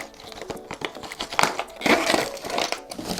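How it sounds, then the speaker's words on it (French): Packaging being torn open and crumpled to free a fishing lure, a run of close, crisp crinkling and crushing bursts that builds in the middle and keeps going to the end, with no talk. "je vais vous le déballer, que vous voyez de plus près"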